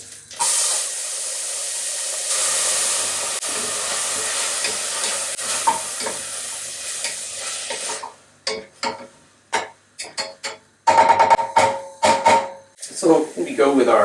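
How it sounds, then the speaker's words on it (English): Onions hit hot olive oil in a pot and fry with a loud, steady hiss and crackle, then the sizzle breaks up into stirring scrapes and clacks of a utensil against the pot. "we're going to throw in our onions first with a little bit of olive oil"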